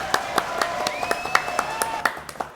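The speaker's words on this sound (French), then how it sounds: "Applaudissements donc pour Cédric Salle." Sparse hand claps for Cédric Salle, an association member, at a French event, irregular and fairly close, with a tonal whistle or voice line running over them.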